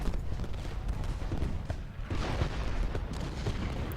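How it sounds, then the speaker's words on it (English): Canister shot artillery fire in the Civil War strategy game Ultimate General: Gettysburg, a dense, continuous crackle of booms and volleys rolling at mid distance with a slight lull midway. "he's getting some canister shots now"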